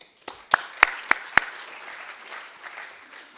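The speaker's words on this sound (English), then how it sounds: "I think you deserve a round of applause for everything you do." At a town hall, a few sharp, separate claps ring out one after another before settling into faint, scattered clapping and room noise.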